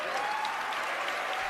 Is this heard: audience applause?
yes